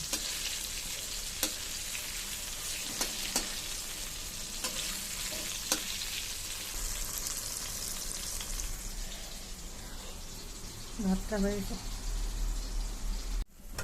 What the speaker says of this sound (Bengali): এই যে দেখো আমি ফোড়ন দিয়ে দিলাম